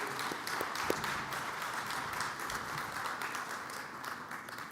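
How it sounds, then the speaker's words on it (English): Applause at a sports Hall of Fame press conference for the Bulldog Hall of Fame Selection Committee; a steady wash of clapping from a moderate crowd throughout, with a few sharper claps standing out. "Let's give them a round of applause for the work they do."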